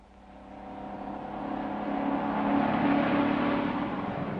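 A white moving truck's engine drones steadily on the highway, the rumble swelling gradually louder as it drives along, with no talking.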